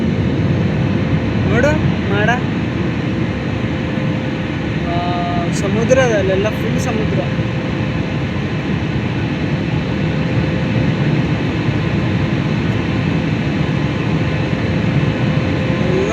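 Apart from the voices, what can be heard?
airplane climbing after takeoff, cabin noise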